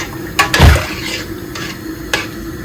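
A spoon stirs a vegan chickpea curry in a pot, giving a few sharp metallic clinks and one heavier thunk against the pot, loud and close, separated by short pauses.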